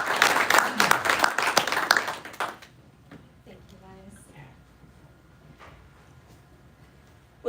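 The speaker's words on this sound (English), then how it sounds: "let's give her a round of applause" Applause at a veterans' entrepreneur library grand opening in Las Vegas: a loud burst of crowd clapping for about two and a half seconds, then fading into quiet room noise with faint movement.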